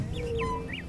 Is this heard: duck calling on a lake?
yes